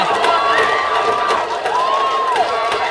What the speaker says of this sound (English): Strong St Margaret's presence in the crowd here. They're getting behind their girls.